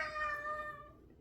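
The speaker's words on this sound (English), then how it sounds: "Hammy, let me move the cat." A cat meows loudly and close by in one drawn-out, harmonic cry that fades away over about a second, with no talking over it.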